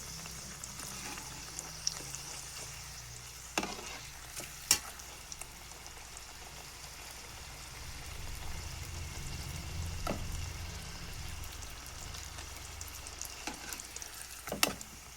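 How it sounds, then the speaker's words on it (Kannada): Mutton-filled holige fries in hot oil with a faint, steady crackling sizzle that swells softly midway, punctuated by a few sharp clinks and knocks of utensils; no talking. "ಈ ಥರ ಕರಿಬೇಕು ನೋಡಿರಿ, ಹೋಳಿಗೆ ಕರೆದಂಗೆ"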